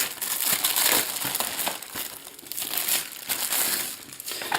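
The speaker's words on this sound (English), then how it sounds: "we've got one more little plastic bag here that open much easier" A small plastic bag is opened during an unboxing, giving loud, close crinkling and rustling that comes in bursts with brief lulls, no voices.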